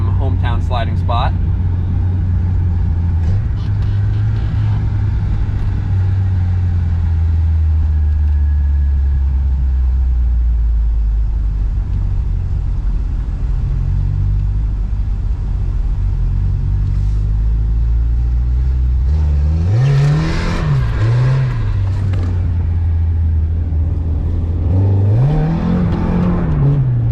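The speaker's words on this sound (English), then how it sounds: "Gotta hit a quick last open diff slide." Mazda Miata with an open differential sliding sideways at a hometown spot, a loud continuous engine drone with rising revs and surging bursts toward the end, someone talking over it at times.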